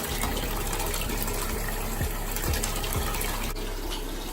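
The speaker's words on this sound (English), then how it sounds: "I'm now filling up this bucket with clean water" Clean water pours steadily into a bucket for an aquarium, a continuous close gushing rush with a few soft low gurgles partway through.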